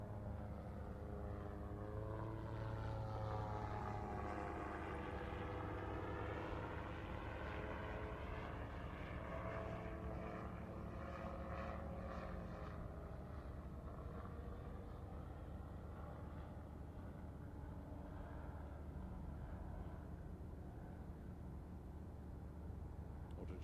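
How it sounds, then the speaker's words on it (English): An autogyro flying at the Farnborough International Airshow, a distant, faint propeller and engine drone whose pitch slowly sweeps up and down as it passes, continuous for over twenty seconds. "Autogyro coming back into the centre."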